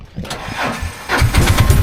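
A new auto rickshaw's small engine is cranked and catches, moving from a short starting whir into a loud, close, chugging idle with a fast, even pulse.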